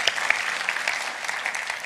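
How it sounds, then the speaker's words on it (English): An audience at a church vision night gives a round of applause, with dense, steady clapping from many hands filling the short stretch. "a round of applause for"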